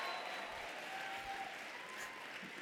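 Graduation commencement audience applauding steadily, a dense wash of many hands clapping at a constant level throughout, with faint crowd murmur underneath.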